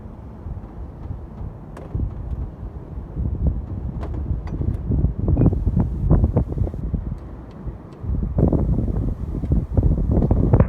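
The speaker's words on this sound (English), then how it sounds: "It's a really windy day today. We got gusts, probably close to 40 miles an hour." Strong wind gusting to about 40 miles an hour buffets the microphone in rumbling gusts, rising and falling over the clip with a dip before surging again.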